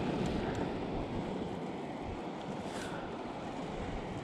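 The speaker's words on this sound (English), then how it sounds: "Got a little waterfall coming in." A small waterfall pours into Medicine Creek near Lake Lawtonka, giving a continuous, even rushing wash close by, with some wind buffeting and no talking.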